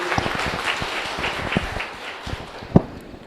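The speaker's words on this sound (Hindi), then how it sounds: "तो अपने लिए एक बार ताली बजा लो।" A small audience claps at an opening-day talk in a hall, scattered uneven claps with a few sharp individual hits standing out, fading toward the end.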